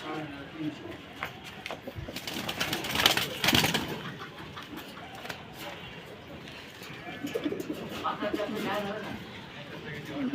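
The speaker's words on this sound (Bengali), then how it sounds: "এই কবুতরটা ধরে দেখাও" Racing pigeons coo softly in the background while people talk over them, with occasional rustling and handling noises close by.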